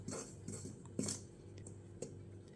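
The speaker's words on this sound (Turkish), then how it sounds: "Üzerine bir tatlı kaşığı tuz ekleyip karıştırıyoruz." A spoon stirring flour and salt in a mixing bowl for layered katmer pastry dough, giving faint, light clinks and scrapes at a loose, steady rhythm in a quiet room.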